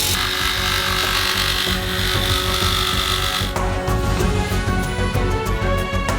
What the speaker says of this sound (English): and then cut the pipe with a jigsaw